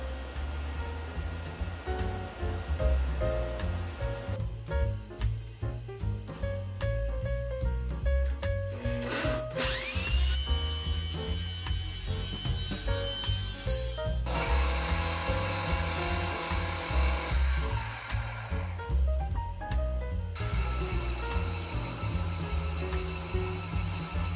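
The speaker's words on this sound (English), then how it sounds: "I drill and thread a hole to accept the cam bearing post." A power drill whines continuously at close range, its pitch rising and falling as it bites into quarter-inch aluminum plate, with no voices.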